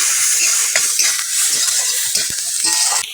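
Onions, green chillies and nigella seeds frying in hot oil in a wok are stirred, a steady loud sizzle broken by soft scraping and clinking of the spatula, close and without talk.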